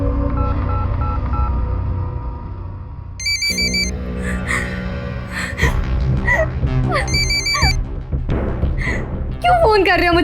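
An electronic phone ringtone chirps in repeated high beeping bursts, joined by background music and a voice talking.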